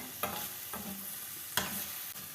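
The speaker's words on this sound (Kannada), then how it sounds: "ಈ ಥರ ಎಣ್ಣೆಯಲ್ಲಿ ಫುಲ್ಲು ಸ್ವಲ್ಪ ಹೊತ್ತು ಡ್ರೈ ಫ್ರೈ ಮಾಡ್ಕೊಂಬಿಡ್ಬೇಕು." Carrot pieces for a curry dry-fry in oil with a soft, steady sizzle, broken by a few sharp spatula scrapes and taps against the pan, close and quiet, with no talk.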